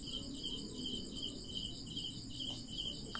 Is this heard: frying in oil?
no